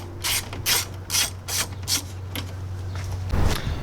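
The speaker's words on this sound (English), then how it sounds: "step 3 is remove the 10mm bolt in the center" A hand ratchet removing the 10mm center bolt on a Toyota Land Cruiser 200 Series (LX570) during a winch installation: six quick bursts of clicking pawl strokes, close and clear over a steady low hum, ending in a louder final rattle.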